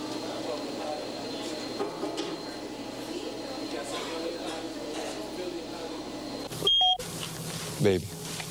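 A telephone rings in a 1988 American revenge film scene: a quiet, hissy room background, then two short, sharp electronic-sounding rings close together near the end.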